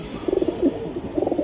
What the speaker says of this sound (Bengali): একদম তুল কালাম লাগাই দিছে কবুতর জোড়াটা